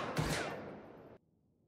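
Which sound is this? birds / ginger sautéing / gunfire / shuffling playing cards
gunfire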